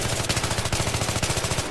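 An AK rifle in Battlefield 3 fires a rapid automatic burst of about twenty evenly spaced, loud, close cracks in under two seconds.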